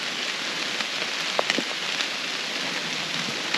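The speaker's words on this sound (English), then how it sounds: "when it's just a nice straight down rain like this" Steady rain falls straight down in a soft, even hiss of countless drops, with a few slightly sharper individual patters rising now and then, close and continuous with no voices.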